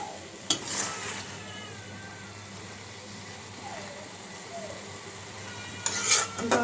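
Small kachki fish frying with spices in a pan, a soft, steady sizzle running throughout, with a couple of sharp utensil clinks against the pan near the start and again at the end.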